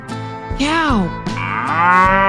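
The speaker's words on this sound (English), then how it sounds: "Cow." A cow moos in two long, drawn-out lows, loud and near, with faint music underneath.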